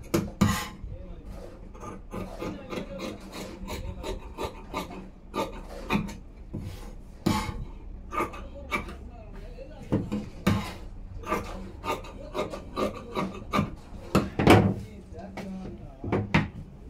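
Scissors cut a yoke piece from blouse fabric for a size 40 blouse, producing quiet, irregular crisp snips and rustling fabric bursts at close range, some in quick clusters and others spaced apart.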